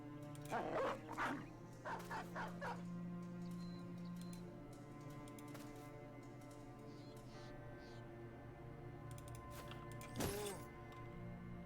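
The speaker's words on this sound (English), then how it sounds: "Could let the dogs out." Dogs let loose in a Battle Brothers battle, with a few barks and yips early on over a steady game music and combat backdrop, plus a louder burst near the end.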